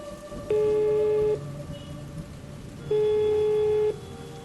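Two long steady ringback tones of an outgoing phone call, each lasting about a second, separated by a pause, with faint rain-like background noise underneath.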